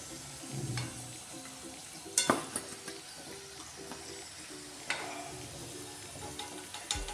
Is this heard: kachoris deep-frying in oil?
yes